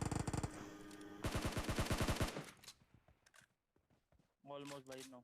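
Kar98 and M24 rifle gunfire in PUBG Mobile: rapid runs of sharp shots crackle in two clusters, then fade, and a voice speaks briefly at the end.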